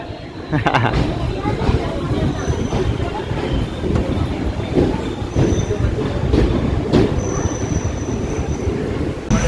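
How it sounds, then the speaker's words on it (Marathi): Continuous rumble and rattle of a special train to Mumbai moving on rails, with rhythmic clacks and faint wheel squeals, heard from inside while people talk. "ट्रेनमध्ये आहे आत्ताच चढलोय गाडीमध्ये"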